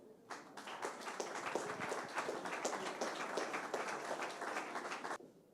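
An audience at a French asset-management event breaks into steady applause, a continuous wash of clapping that is moderately distant and fairly faint, ending abruptly after about five seconds.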